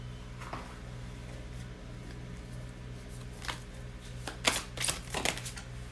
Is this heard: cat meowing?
no